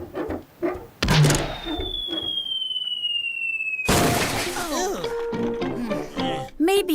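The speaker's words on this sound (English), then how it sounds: "Fantastic, it's good that we have bought this snowball cannon." Cartoon snowball cannon firing at a snow fortress: a sharp launch thump, a long whistling flight tone that slides downward, then a loud splattering impact, with animated character voices and effects around it.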